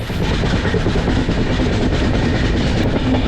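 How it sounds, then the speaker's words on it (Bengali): Jammu Tawi Express running at speed after leaving Kathua station, a loud, dense, continuous rumble of wheels and carriages with steady rattling throughout. "কাঠোয়া স্টেশন থেকে ছাড়ার পর এবার আমাদের ট্রেন ফাইনাল ডেস্টিনেশন জাম্মু তাওয়ার উদ্দেশ্যে"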